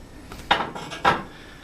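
A ladle scrapes and clinks against a pot and bowls while French onion soup is served, two distinct clanks about half a second apart with soft sloshing between them.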